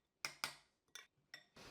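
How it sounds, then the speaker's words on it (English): A spoon stirs chimichurri sauce of fresh herbs and black pepper in a bowl, producing about five sharp, close clinks in an irregular rhythm, with quiet gaps between and no speech. "Snag a spoon, give it all a mix."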